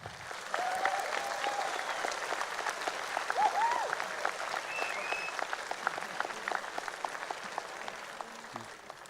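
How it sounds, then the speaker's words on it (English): A crowd at a League of Legends esports match in Warsaw, Poland, gives dense, steady applause that continues for the full stretch, with a few faint whistles and shouts mixed into the clapping. "Give a big round of applause."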